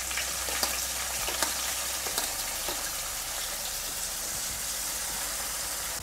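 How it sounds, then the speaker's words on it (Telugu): Onions and green chillies frying in a pan with garlic and dried red chillies, a steady, even sizzle throughout with occasional faint clinks, no talking. "ఇవి కొంచెం లైట్ బ్రౌన్ వచ్చే వరకు వేయించుకోవాలి."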